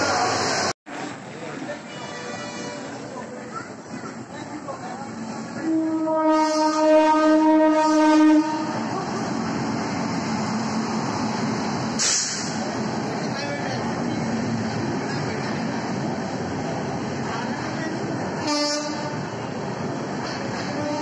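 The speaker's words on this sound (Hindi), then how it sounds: "मैं ट्रेन पे बैठ गया हूँ, ट्रेन भी चल पड़ी है" A passenger train in India pulling away from a station, with a rumbling carriage drone, a long horn blast, later clanks and a sharp metallic screech, and people talking in the background.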